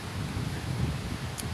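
Wind blows at an outdoor shooting range, a steady, soft rushing and buffeting against the microphone with no distinct events, lasting under two seconds.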